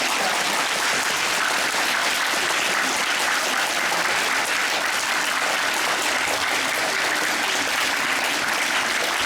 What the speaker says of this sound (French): Je vous propose qu'on applaudisse très fort Alix et Philippe.